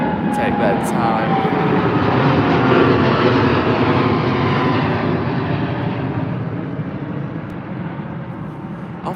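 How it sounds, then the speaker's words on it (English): A large airliner departing Heathrow roars loudly nearby, its engine noise swelling to a peak then slowly fading as it climbs away, with someone speaking over it. "What I like about these bigger aircraft is their lower takeoffs."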